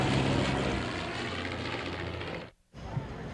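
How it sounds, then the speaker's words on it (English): Vintage racing airplane designed by Benny Howard, powered by English de Havilland Gipsy engines, flying at an antique fly-in airshow: a loud, steady propeller-engine drone that fills the whole stretch, briefly dropping out near the end. "Has some English de Havilland Gypsy engines, cruises about 185 miles an hour."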